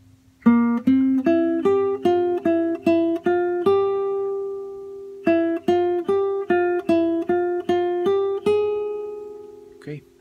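Guitar intro phrase of a song, played as a run of single picked notes in two matching bursts with a pause between, clear and close, no voice over it.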